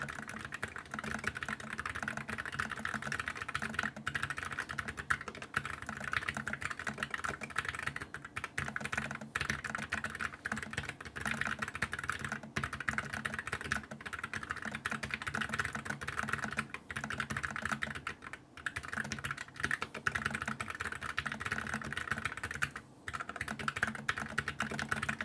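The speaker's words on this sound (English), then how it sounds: "so you can hear what the keyboard sounds like when you're actually using it for typing" Steady typing on a mechanical keyboard fitted with Gateron brown tactile switches, a continuous run of muted, moderately quiet key presses with brief pauses, recorded close and with no talking.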